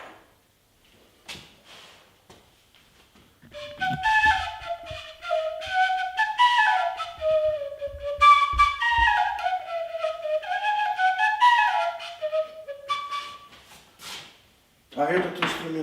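A handmade whistle played in a wavering, sliding melody of breathy tones, with a few clicks and handling knocks before and after.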